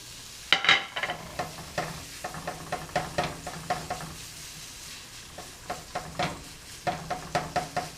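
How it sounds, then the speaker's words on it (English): Ham cooking in a copper pan, a soft steady sizzle broken by a string of light knocks and scrapes as it is stirred and moved around, fairly quiet and close with no talk. "just put your ham in first, and kind of cook your ham a little bit"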